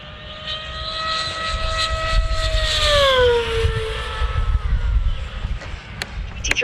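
An E-flite V1200 RC plane screams past at full throttle, a loud high-pitched electric motor whine that holds steady then drops in pitch as it passes overhead and fades, with no one talking.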